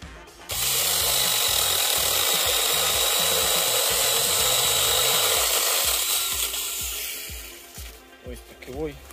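A miniature cordless battery chainsaw cuts through a tree trunk during garden pruning, giving one steady, loud buzzing run of about five seconds that fades as the cut finishes, with brief speech near the end.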